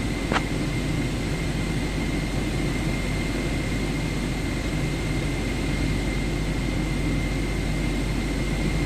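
Aircraft taxiing in MSFS 2024, a steady engine drone and hum that holds evenly throughout, close and continuous with no voices.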